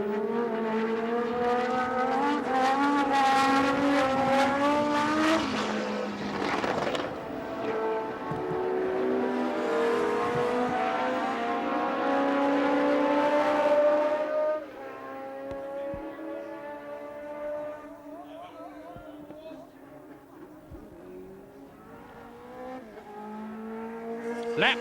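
Race cars at the 1978 BRDC International Trophy at Silverstone, coming out of Stowe toward Club Corner. Loud engine notes rise and fall as the cars pass and accelerate one after another, then fade as they move away.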